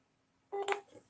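Telephone keypad dialing tones, a short burst of a few beeps rising abruptly out of near silence and trailing off, close and clear with no voices.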